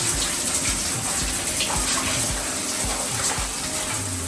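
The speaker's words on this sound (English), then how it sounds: "I just put that on my little sponge loops and I just wash" Steady running water with splashing and rubbing as skin is washed using sponge loops and Eucerin pH 5 wash, a close, continuous wet wash without speech.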